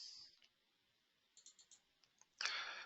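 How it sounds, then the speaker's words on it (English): Quick mouse clicks, a few light taps spaced close together and then a longer, louder burst at the end, on a quiet desk while editing bolts in Advance Steel software. "the bolts themselves I can edit by double clicking on the bolt"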